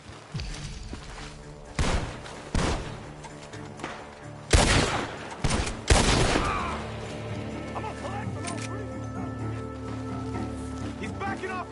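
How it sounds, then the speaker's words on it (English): Gunfire rings out from a barn in the video game Red Dead Redemption 2: several loud, sharp shots and crashing impacts over a constant mechanical din, with the shots bunched in the first half. "The gunshots are coming from that barn."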